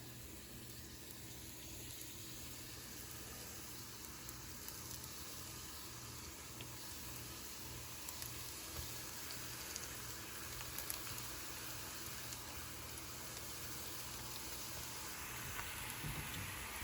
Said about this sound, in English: if you see that sizzle, that means that it's ready.